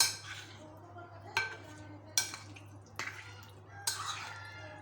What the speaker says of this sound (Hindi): मिक्स कर दें अच्छी तरह से।